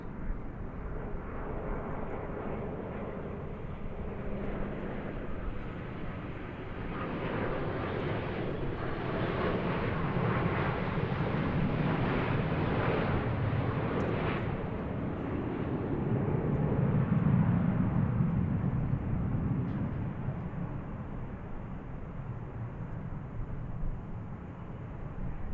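An airliner takes off at DFW Airport, a broad, distant jet roar that swells steadily, peaks, and then slowly fades, heard alone without talk.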